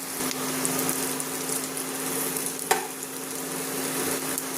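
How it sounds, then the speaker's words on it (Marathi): Vadi snacks frying slowly in oil over a low gas flame, a steady soft broadband sizzle with a constant low hum beneath and a single brief clink near the middle. "हे एकदम कमी मध्ये तळून घ्यायचे आहे किंवा कमी गॅसमध्ये"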